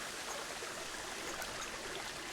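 Waterfall in the Kayan al-Bashar area of Planet Zoo, a steady broadband rushing hiss of falling water, even and unbroken for a couple of seconds, with no voices.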